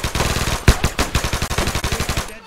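Rapid bursts of automatic machine-gun fire in a war video game, loud and close, with a rhythmic stream of shots and one heavier blast early on.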